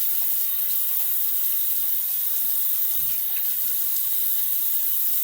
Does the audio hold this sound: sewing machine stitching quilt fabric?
no